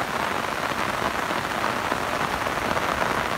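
Steady rain pours down in a rural village, a dense, even hiss of drops on surfaces that fills the whole stretch with no voices.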